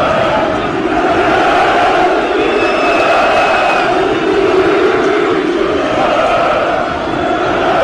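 Home football fans in a Banja Luka stadium during rioting that halted the Borac versus Željezničar match, a loud sustained roar of crowd chanting and shouting that swells and fades slightly, with a commentator's voice underneath.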